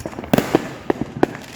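Christmas Day fireworks go off in quick, irregular sharp pops and bangs, about half a dozen loud reports in under two seconds, with no voices.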